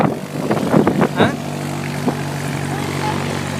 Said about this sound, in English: Oh, heads up. Here comes an airplane.